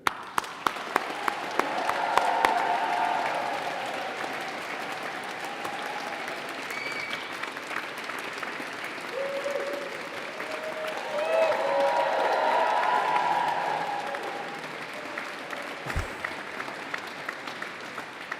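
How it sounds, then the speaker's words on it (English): Graduates at a university graduation ceremony in Rochester Cathedral applaud their families and supporters, a moderate clapping that swells twice across the cathedral, with a few sharp claps at the start and faint murmuring voices around it. "Will you please applaud them in return?"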